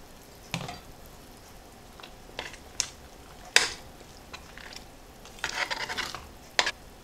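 A spoon stirs boiled black-eyed peas into a pot of porridge-like Vietnamese che dau, giving scattered soft scraping and sizzling swishes at irregular moments over a quiet background, with no talk.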